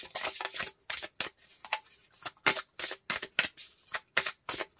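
Tarot cards being shuffled by hand in quick, rhythmic riffling bursts, close and fairly quiet, with short pauses between them.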